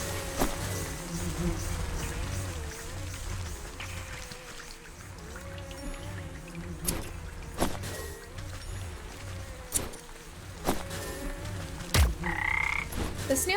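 Frogs croak in the Wytchwood video game, a steady chorus of low throaty calls over buzzing insect-like ambience, with a few sharper clicks and splashes standing out.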